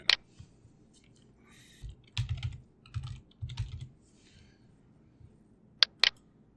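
Keystrokes on a computer keyboard while entering text in a vendor window in QuickBooks: scattered single clicks, then a quick burst of clustered taps in the middle and two sharp isolated clicks near the end, close and fairly quiet.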